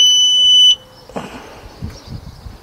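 A Kawasaki ZX9R motorcycle's alarm emits a loud, steady high-pitched electronic tone that cuts off abruptly after under a second, followed by quieter rustling and handling noises.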